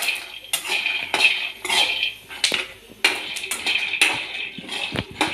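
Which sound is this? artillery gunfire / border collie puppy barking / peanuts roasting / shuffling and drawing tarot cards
peanuts roasting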